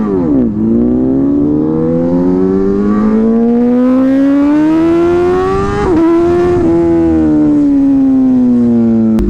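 A hyper naked motorcycle with a slip-on exhaust is ridden hard, its engine note loud and close as it climbs steadily through the revs, dips at a gear change, then pulls on.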